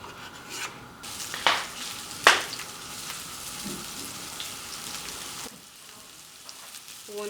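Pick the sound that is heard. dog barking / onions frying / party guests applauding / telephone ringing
onions frying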